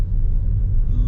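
Car engine rumbling steadily while driving through the dense streets of Macau's Three Lamps district, a low continuous drone close by with no talk.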